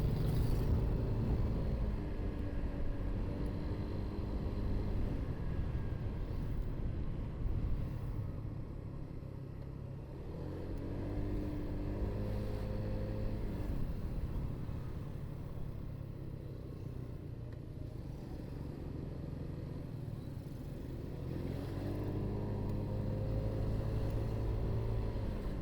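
Jeepneys drive past on a road, a steady low engine rumble with slow swelling passes rising and falling several times, fairly close and without speech.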